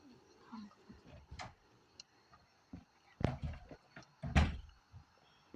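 A door being closed indoors, heard as a few faint bumps and one sharper knock near the end, among quiet room noise and a distant voice.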